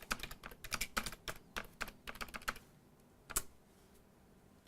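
Typing a command on a computer keyboard, a quick burst of close, crisp key clicks followed by a pause and a single final keystroke, quiet with no talk.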